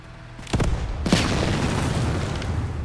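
A Bradley armored vehicle blows up in a tank combat game, two heavy booming blasts in quick succession followed by a long rumbling roar of fire and debris.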